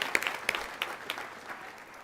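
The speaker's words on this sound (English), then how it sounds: "They deserve a round of applause." Audience applause at a college commencement, scattered claps with a few sharp nearby hits fading out over about two seconds.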